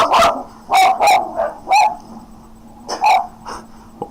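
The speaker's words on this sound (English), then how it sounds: "sorry, I got dogs." Dogs barking indoors, a burst of loud, close barks in an uneven rhythm with short gaps and faint breathing between them, with no talking.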